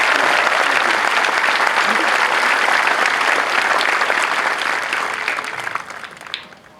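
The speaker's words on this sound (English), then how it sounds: "Another round of applause to the outstanding MPI." Loud, dense crowd applause at an Air Force basic military training graduation parade, a sustained roar of clapping from a large outdoor audience that holds steady and then tapers off toward the end.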